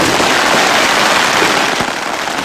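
Confiscated illegal firecrackers set off by accident in a deep pit crackle in a dense, loud barrage of overlapping pops, continuous throughout.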